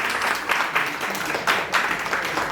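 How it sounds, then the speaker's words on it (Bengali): Audience applause after a school performance by students of MC Kejriwal Vidyapeeth, broad steady clapping from a crowd with a few swelling peaks, no talk over it. "পূর্বাহ্নের এই অপূর্ব পরিবেশনার জন্য আরো একবার জোরে হাততালি হয়ে যায়"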